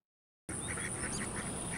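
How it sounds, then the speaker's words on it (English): A domestic duck, a domesticated mallard, quacks several times in a quick series outdoors on a farm over a steady high background tone, moderately close. "What sound does a duck make?"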